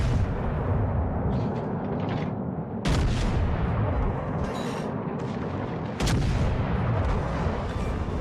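Warship guns in a naval video game fire at a destroyer, heavy booming blasts landing at roughly three-second intervals over a constant loud rumble of battle noise.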